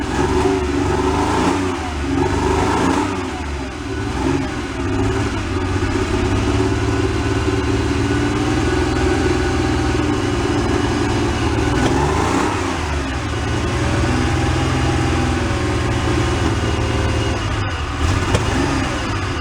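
A flood-damaged Porsche 911 engine runs roughly with a few revs rising and falling over a continuous loud drone, close by and unsteady.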